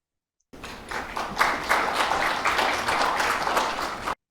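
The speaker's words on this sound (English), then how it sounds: "Please give the applause." An audience applauds at a formal meeting held by Indonesia's National Food Agency, steady dense clapping rising quickly and holding for about three and a half seconds before stopping abruptly.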